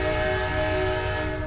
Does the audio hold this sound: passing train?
yes